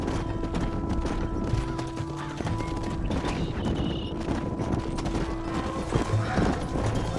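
Horse hooves in the Xbox 360 game Red Dead Redemption, a steady run of clip-clop footfalls with an occasional snort over outdoor game ambience and a faint low musical drone.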